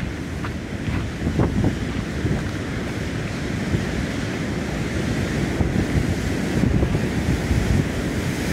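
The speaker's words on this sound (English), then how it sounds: "Back to the wind now. It's not blowing straight in my face like it's been all the way along here." Cold wind blows steadily across an open seafront by a seawall on a winter day, roaring and buffeting the microphone with surf washing beneath it, continuous and loud throughout with no voices.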